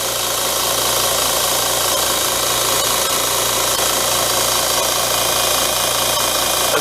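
A bench grinder mounted on a small work table runs steadily with a constant hum and gritty buzz, loud and unbroken throughout.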